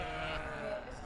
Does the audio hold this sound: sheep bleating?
yes